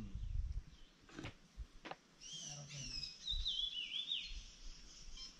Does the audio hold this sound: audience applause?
no